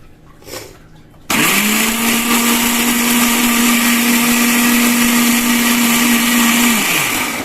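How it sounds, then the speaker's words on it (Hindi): A kitchen blender grinds spinach greens (saag) into a paste, kicking in abruptly after a brief quiet moment and holding a loud, steady motor whir for about five seconds before spinning down. "देखिए, मेरा साग पिस गया है।"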